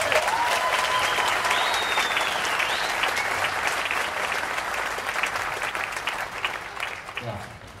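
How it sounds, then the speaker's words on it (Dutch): Sustained applause from an outdoor festival audience on a town square after a percussion group's performance, with a few whistles early on, loud and dense before thinning and fading at the end. "Groot applaus voor de slagwerkgroep."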